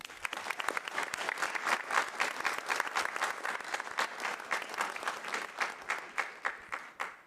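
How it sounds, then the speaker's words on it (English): A room full of people at a school board meeting applauds honorees, steady dense clapping sustained for several seconds before tapering off. "join us in another round of applause for all of those who were honored this evening."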